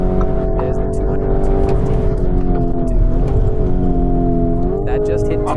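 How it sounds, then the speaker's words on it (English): A 650 hp Lamborghini Urus SUV accelerates at high speed, its engine a loud, steady drone whose pitch climbs in small steps, heard from inside the cabin. "it's accelerating insanely, unbelievably fast"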